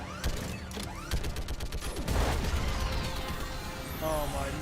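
An orbital strike fired in a video game against a live Reaper: a rapid mechanical burst of shots and crashes builds into a heavy rumbling impact, loud and close, followed by whooshing tails.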